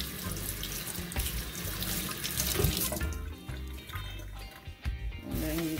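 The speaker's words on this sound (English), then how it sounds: "I'm gonna wash it off first before I peel it. So just give it a nice little rinse," A tap runs steadily into a sink while a cocoa pod is rinsed under it to wash off the dirt, giving close, continuous splashing and gurgling water.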